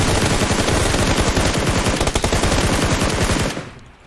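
Loud, sustained automatic gunfire from the video game PUBG Lite: a rapid, continuous burst of shots that cuts off abruptly near the end.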